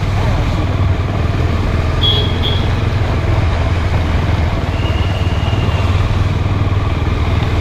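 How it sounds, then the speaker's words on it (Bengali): A motorbike rumbles steadily along a bumpy, potholed road, its engine droning close and loud with traffic-like road noise and faint background voices. "আমি আমার বাইকটাকে নিয়ে গাড্ডার মধ্যে দিয়ে হুশ করে বেরিয়ে যাচ্ছি"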